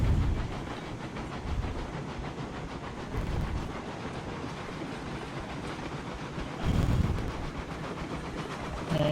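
A train runs on rails in the video game Railroads Online, giving a steady rumbling roar with hiss and rhythmic clatter. It swells briefly twice, and no voices are heard over it.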